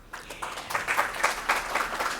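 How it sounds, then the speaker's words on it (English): Applause from a seminar audience honoring hospital volunteers, moderate clapping in uneven bursts that swells and dips over a couple of seconds. "We applaud for our Sahayog volunteers."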